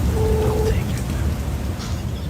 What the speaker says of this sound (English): It's raining. Thundering, you can hear it.